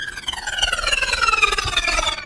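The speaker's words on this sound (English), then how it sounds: "So that's just one of those flangers on high feedback." White noise run through a flanger on high feedback, a layer for fire sound design, rings with a metallic, whooshing comb-filtered tone that sweeps downward in pitch and cuts off abruptly after about two seconds.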